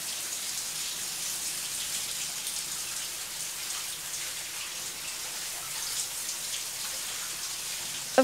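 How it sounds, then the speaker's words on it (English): Shower water runs in a steady, soft hiss with no other sounds, from the shower scene in Hitchcock's Psycho. "It then seems to cut out completely with just the sound of water."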